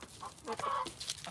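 A hen clucks in a few short, quick bursts close by, with quiet surroundings and no talking.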